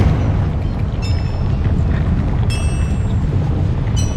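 Confringo fire-blast spell erupting in Hogwarts Legacy, a loud, continuous rumbling roar of fiery explosions with bright crackling bursts flaring up three times over the steady low boom.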